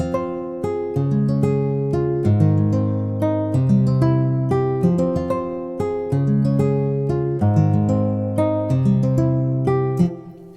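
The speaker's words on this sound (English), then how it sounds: "the progression that I played using just the pick nylon with no effects." A chord progression picked on a sampled nylon-string guitar with no effects, clean and close, each chord plucked in a steady unhurried rhythm over about ten seconds, with no voices.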